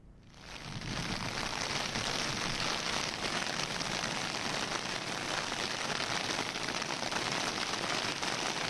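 Heavy torrential rain pours down in a steady, dense hiss that swells in over the first second and then stays constant, moderately quiet and unbroken, with no voices.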